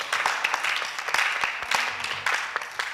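An audience applauds for the actor Gaspare Cucinella during a talk, a loud, close burst of irregular clapping that swells and ebbs, with scattered sharper claps standing out.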